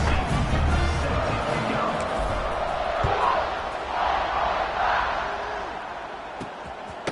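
Football stadium crowd before a kickoff, a broad steady roar of many voices filling the space, with occasional sharp thuds and a commentator talking over it.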